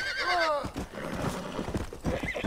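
Horse in the Red Dead Redemption: Undead Nightmare video game, set in 1911, gives a loud rising whinny, followed by quick hoof clip-clops over game background noise.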